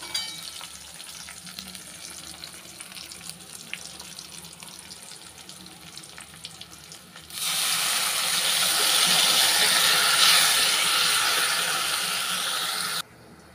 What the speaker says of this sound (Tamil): மஞ்சள்தூள் சேர்த்துட்டு புளித்தண்ணியை சேர்த்துக்கலாம்.